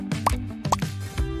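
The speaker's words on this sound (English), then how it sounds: "Then add some drops of food coloring." Drops of food coloring plop into a bowl of lemon-lime soda, with two distinct liquid plops close up, roughly half a second apart, and no voices.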